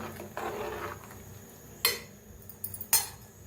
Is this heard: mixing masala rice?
yes